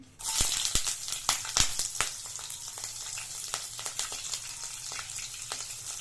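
Three cut green chillies and a little cinnamon bark hit hot oil in a pan for spicy egg sukka, giving a close, steady crackling sizzle with sharp pops scattered throughout.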